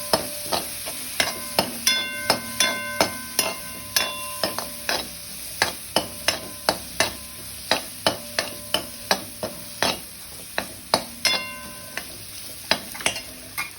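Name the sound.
sautéing chickpea masala with turmeric in pan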